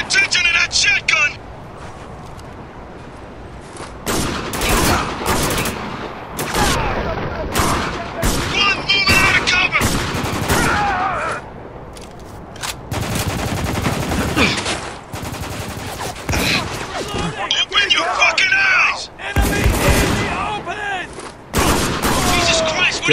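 Shotgun blasts and rapid gunfire in the war shooter Spec Ops: The Line, a dense run of loud, sharp bursts with short gaps between volleys, mixed with shouted voices.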